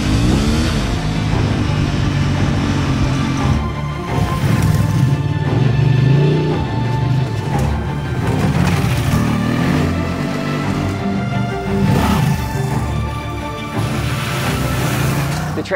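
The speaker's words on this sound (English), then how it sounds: "the hottest new bike on the adventure bike scene, Honda's all-new XL750 TransAlp" A Honda XL750 TransAlp mid-sized adventure motorcycle rides steadily, its engine droning loud and close throughout with slight rises and falls in pitch as it accelerates.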